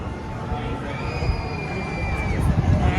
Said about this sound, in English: The kids screaming.